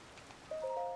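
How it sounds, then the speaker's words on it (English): Soft, steady rain patters in Zelda: Tears of the Kingdom near Kakariko Village, a faint hiss with a bright tonal chime sounding over it in the second half. "The rain."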